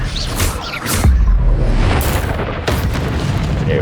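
A disarming spell fires in Hogwarts Legacy combat, heavy whooshing blasts and a deep boom around the one-second mark, then another burst amid continuous loud game noise, with no talking.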